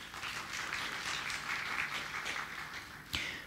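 Steady, dense applause fills a Polish award ceremony hall as guests are welcomed, continuing without a break for several seconds, with one sharp clap near the end.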